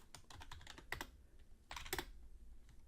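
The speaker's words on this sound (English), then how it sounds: "let's type in our name, our first name." Fingers type a first name on a computer keyboard in quick bursts of close, crisp key clicks, with a brief pause in the middle before a second flurry of keystrokes.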